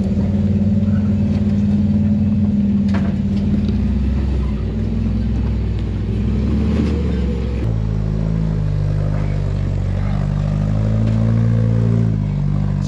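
Island-spec Toyota rock crawling trucks idle and rumble off-road on a rocky trail, a steady low engine drone with a revving shift partway through, loud and close with no talk.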